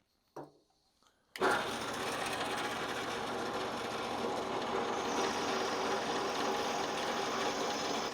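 A small hole being drilled in metal for a homemade milling vise speed handle: a brief click, then a steady, close mechanical whir of the drill running continuously for several seconds.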